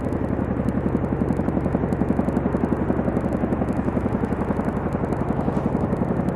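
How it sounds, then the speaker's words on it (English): Chinook helicopters hover during an Indian Air Force exercise at Pokhran, lowering M777 howitzers; a loud, continuous rotor thump with rapid rhythmic blade chop and engine drone, steady throughout with no voices. "you can see the Chinook helicopters lowering the M777 guns."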